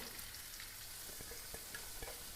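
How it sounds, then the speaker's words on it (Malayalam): Sliced onions frying in oil for chicken dum biryani masala, a steady soft sizzle throughout with a few faint stirring clicks, no talking. "ഈ എണ്ണയിലേക്ക് തന്നെ സവാള ഇട്ട് കൊടുക്കാം"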